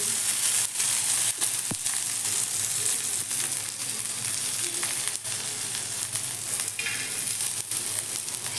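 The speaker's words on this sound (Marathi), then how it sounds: "अशाच भाजायच्या आहेत बिना तेल टाकता पहा असे थोडेसे दाग पडेपर्यंत भाजायच्या" Green chilies roasting in a hot pan, then oil and cumin going in, a loud continuous sizzle and crackle with occasional stirring scrapes, close up.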